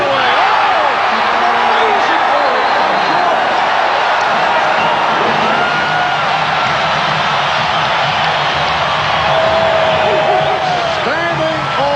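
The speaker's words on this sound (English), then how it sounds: "Standing ovation from this capacity crowd in Chicago" A capacity basketball crowd in Chicago on its feet in a standing ovation, a loud, dense roar of cheering and whoops filling the arena throughout, with a commentator's voice over it.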